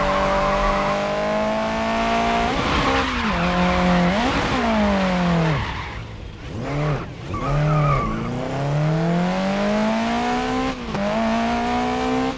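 A car in the Grid Legends racing game held in a handbrake slide through a corner, with a loud engine whining and dropping through gear changes and tires squealing and skidding throughout.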